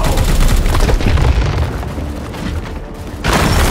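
Heavy weapon fire in Warhammer 40,000: Chaos Gate - Daemonhunters, a loud dense booming barrage that eases slightly, then swells again with a fresh burst at the end.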